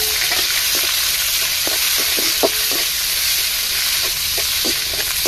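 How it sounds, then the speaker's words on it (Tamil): Ginger and garlic sizzle in hot oil in a pan while cooking a chicken leg piece curry, a steady close frying hiss with small crackles and stirring clicks throughout, no talking. "இஞ்சி பூண்டு சேர்த்துக்கிடுவோங்க."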